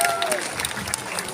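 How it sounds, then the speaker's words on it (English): A short burst of crowd applause rises from spectators at a live tiger show at Dreamworld's Tiger Island, heard under a presenter's amplified voice. "A little round of applause."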